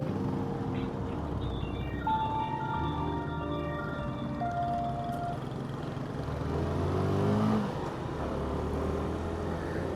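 A motorcycle ridden at speed with a DJI Osmo Action 3 and a 7Ryms Rémo S1 wireless mic: steady engine drone and tonal whine under continuous rushing wind noise, sustained and fairly loud throughout.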